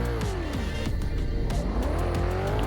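A car in the Emergency Hamburg video game drives hard with a steady engine roar and repeated tire squeals that swoop in pitch, loud and continuous, with no voices.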